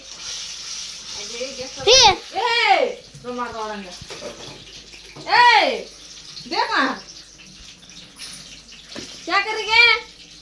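A water tap runs steadily indoors at home while children's voices chatter loudly over the constant flow.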